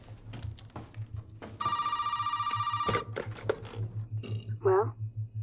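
A telephone rings inside a Resident Evil video game, one sustained electronic bell burst heard under game noise and a low steady hum, with a voice speaking nearby.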